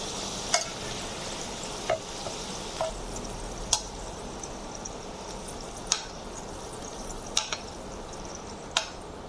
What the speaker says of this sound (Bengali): এবার আমি আলুগুলো একটু ডিপ ফ্রাই করব।